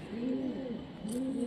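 A female Giribaz pigeon in a cage gives soft, rolling coos, two drawn-out calls in quick succession, faint and close in a quiet room.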